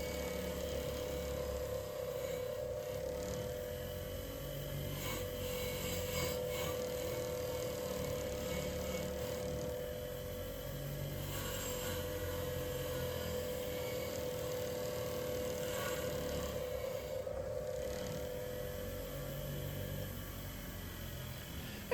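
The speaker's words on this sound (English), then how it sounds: "I'm just going to polish up those welds a little bit just to make them sort of shiny" A power polisher buffs the welds on a metal table, producing a steady, moderately quiet whining hum with a constant tone and a faint hiss that runs evenly throughout, with no talking.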